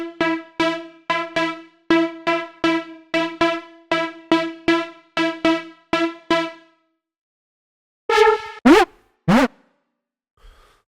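An Afro house synth lead preset, a string of short plucky stabs in a bouncy rhythm, then a pause, a few sliding pitch-bent notes and a faint tail before silence, solo.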